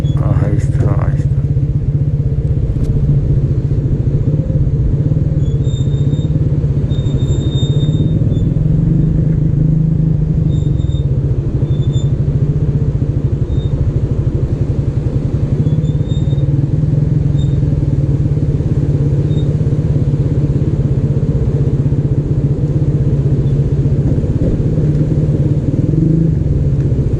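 A motorcycle rides slowly along a rough mountain trail toward a waterfall in the Usheri Valley, Upper Dir, its engine a steady, close, low rumble that continues without a break.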